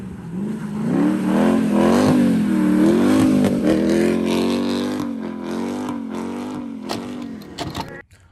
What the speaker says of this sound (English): we are going to go out and take the CLK55 drifting again.